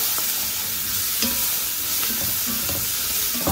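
Onion stir-fried in browned butter in an overly hot pot gives a loud, unbroken sizzle close up, with the soft scrape of stirring repeating throughout.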